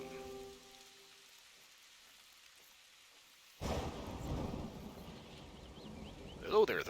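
A thunderstorm in the hunting game The Hunter: Call of the Wild, with a low fading rumble giving way to a sudden loud onset of steady rain and rolling thunder, ending in a sharper crack.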